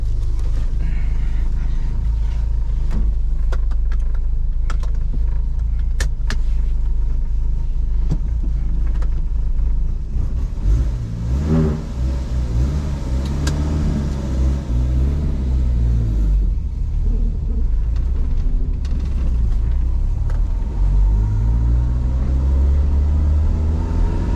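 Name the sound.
1981 Ford Corcel II car driving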